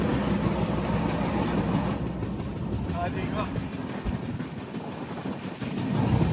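Train 17222 from Mumbai LTT to Kakinada Port rushing past, a steady loud roar with faint rail clatter that eases slightly midway, heard from aboard another moving train.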